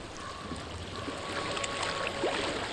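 A steady flowing stream in the Hellblade: Senua's Sacrifice game world, rushing water filling the scene with a constant wash that grows slightly louder, plus a faint tonal hum.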